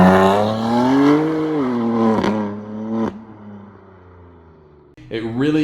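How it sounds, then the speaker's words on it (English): A BMW M4 with its S55 engine, single mid-pipe, downpipes and factory muffler revs up and holds a deep, throaty drone, drops off, then snaps back with another loud rev. "the single mid-pipe with downpipes paired with your factory muffler is truly the best bang for the buck, and it really does sound good"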